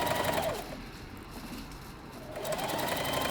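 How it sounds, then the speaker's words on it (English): A sewing machine runs a straight stitch across the folded top of a fabric wine bag, a steady close whirring hum that slows briefly in the middle and then picks back up. "Begin with a lock stitch and sew a straight stitch"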